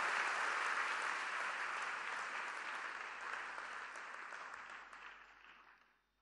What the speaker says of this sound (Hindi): आपकी तालियों के प्रणाम के साथ।